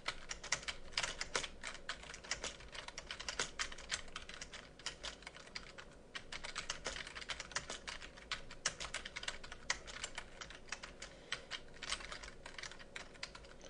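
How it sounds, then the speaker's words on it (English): Fast, uneven typing on a computer keyboard runs for about fourteen seconds, with dense clusters of light key clicks and short pauses, fairly quiet and close, with no talking. "let's just type in some nonsense so that you can see how the system works"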